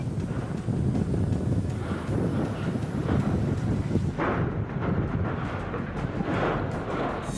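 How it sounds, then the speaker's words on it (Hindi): Loud, continuous roaring wind of a Rajasthan dust storm buffets the microphone with a deep rumble, shifting in tone midway as the gusts keep blowing. "तूफानी हवाएं चल रही हैं।"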